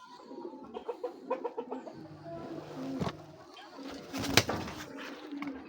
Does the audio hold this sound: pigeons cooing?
yes